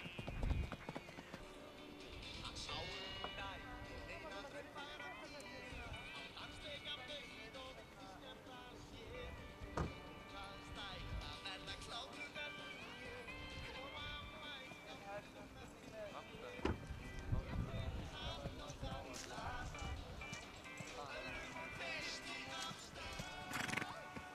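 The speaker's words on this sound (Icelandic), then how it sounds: "Jarpi hesturinn er Aðli frá Nýjabæ og Brúni hesturinn er Sæði frá Bakkakoti." Horses neigh and whinny while hooves clip-clop at a steady walking pace, close and moderately loud, with a voice talking intermittently over the animals.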